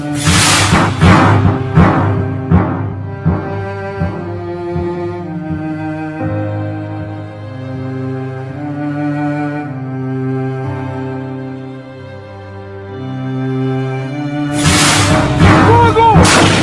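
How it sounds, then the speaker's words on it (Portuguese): Booming, echoing shots burst out at the start and again near the end, with sustained dramatic music droning between them. "O som daquele tiro parecia o eco do inferno."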